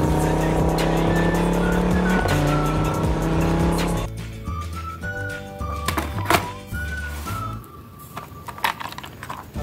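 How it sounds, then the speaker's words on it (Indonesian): A toy Lamborghini race car gives out loud electronic engine revving and tire squeal effects, with a denser roar before a shift into lighter, choppier sounds. "Ada mobil balap Lamborghini."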